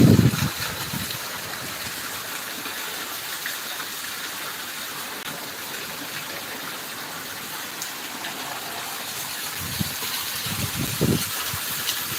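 Steady rain pours down in a Punjabi village, a dense, even hiss of falling water that holds constant throughout, with a few louder low splashes or gusts near the start and the end.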